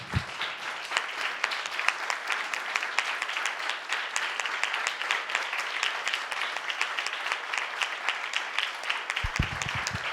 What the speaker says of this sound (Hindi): जोरदार ताली बजाएं परमेश्वर के लिए